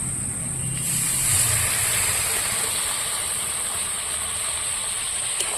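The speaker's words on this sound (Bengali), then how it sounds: "এবার আর একটু দু আর দু মিনিট কষানোর জন্য আমি একটু জল দিয়ে দেব" Water poured into a pan of frying ground spice paste with turmeric and salt for a fish curry: a loud, steady sizzling hiss that holds throughout, with a brief lower bubbling burst near the start.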